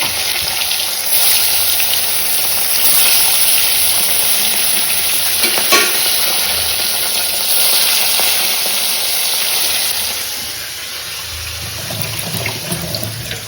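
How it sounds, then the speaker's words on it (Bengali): Fish sizzles steadily in a hot pan, a loud, continuous frying hiss running throughout, with occasional stirring clinks and a slight lull near the end; no one speaks. "মাছটা ভাজা হোক।"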